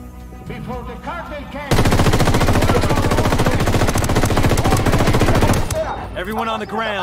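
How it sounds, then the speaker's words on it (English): Rebels firing training shots in Ghost Recon Wildlands: a sudden, loud, sustained burst of rapid automatic gunfire lasting several seconds, with voices talking before and after the shooting. "That's rebels training shots with the cartel."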